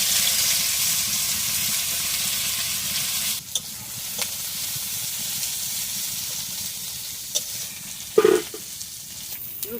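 Sliced onion dropped into hot oil in a pan after frying potatoes, a loud steady hiss and sizzle close up, broken by a few stirring scrapes and clatters near the end.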